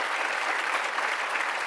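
Steady applause from a crowd at a legislative event honoring a state senator, a dense, even clatter of clapping hands that holds throughout without a break.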